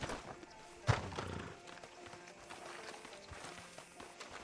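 Horse hooves in the video game Red Dead Redemption 2, one sharp, heavy thump followed by soft, irregular clip-clop steps under a quiet background.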